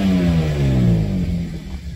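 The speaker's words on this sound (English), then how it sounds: "Check out the exhaust." A BMW M3 convertible's exhaust revs up and falls back in one smooth sweep, a deep throaty engine note close by that rises in pitch, then drops and settles toward idle.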